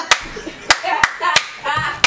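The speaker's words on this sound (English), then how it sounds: "Like, even the way I clap in church." Sharp hand claps ring out one after another in a loose, uneven rhythm, about six in two seconds, close and crisp, with faint voices murmuring between them.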